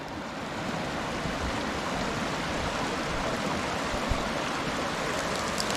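Water pours through a busted-open beaver dam, a steady, close, full rushing wash that holds constant from start to finish with no voices.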